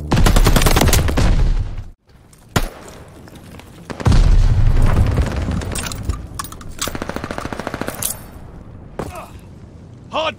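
Heavy gunfire from a strafing run in a Call of Duty style hardpoint match, loud sustained bursts with booming impacts, a brief pause, then more rapid rattling fire trailing into scattered shots.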